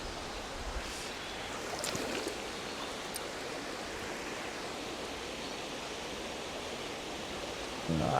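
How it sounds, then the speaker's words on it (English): A grayling river about 25 feet across, lined with low trees, flows past in a steady, even rush of water, broad and fairly faint, with a brief louder rustle near the start and at the end. "River's about, it's a good 25 foot across here"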